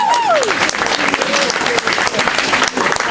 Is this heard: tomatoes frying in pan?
no